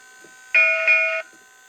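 A single bright electronic ding from an O gauge MTH model train bell rings out clearly for about half a second against a quiet background hum.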